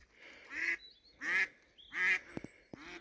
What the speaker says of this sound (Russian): О, утка на реке.